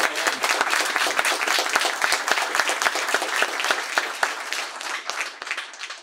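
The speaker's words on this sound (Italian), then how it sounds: "vorrei che farlo anche con un applauso" An audience at a meet-the-author talk gives a round of applause, many hands clapping in a lively, uneven patter with sharp individual claps standing out, tapering slightly at the end.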